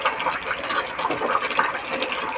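A spoonful of ghee going into simmering mutton curry, giving a soft, bubbling liquid sputter with small irregular pops, close by and steady throughout.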